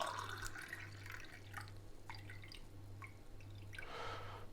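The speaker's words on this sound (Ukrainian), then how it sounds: "наливаємо по 250 мл дистильованої, перевареної і охолодженої водички" Distilled water that was boiled and cooled is poured into a container with a few faint trickles and drips over a quiet low hum.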